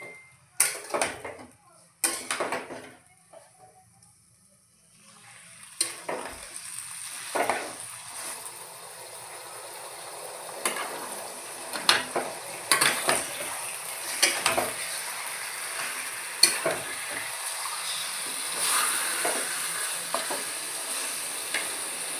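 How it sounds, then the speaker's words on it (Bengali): Meat sautéing in a pan with spatula stirring, sharp metallic scrapes and clacks over a rising sizzle that builds after a quiet start, close by, without speech. "মাংস কষা হচ্ছে, মাংসটা একটু ভালো করে কষিয়ে নেব।"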